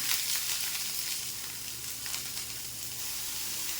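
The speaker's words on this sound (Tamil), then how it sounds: "இப்போது கத்திரிக்காய், கட் பண்ணி வச்சுருக்க கத்திரிக்காயை போடுவோம்." Cut eggplant sizzles in hot oil for a tamarind eggplant dish, a steady, close frying hiss with soft crackles and no talking.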